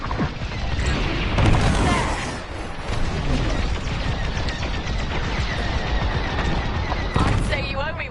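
Space video game battle with ship cores detonating, heavy rumbling blasts and crackling explosions piling up in a dense barrage, with loud bursts near the start and again near the end.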